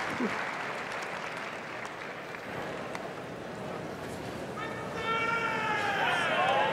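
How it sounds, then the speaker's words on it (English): Crowd at the Westminster dog show in New York cheering and applauding, a steady roar of clapping that swells louder near the end, with whistles rising over it. "Here comes our crowd. This is when the crowd steps up."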